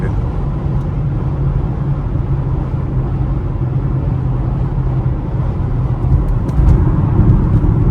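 Steady road traffic rumbling past while driving a BMW X3 M, a continuous broadband roar of car engines and tyres that swells slightly near the end, with no talk.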